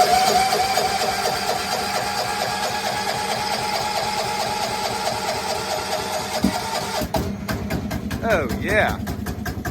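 A snow blower engine runs at a fast, steady putter close by, its rhythm changing near the end as it settles into idle, while someone speaks briefly over it.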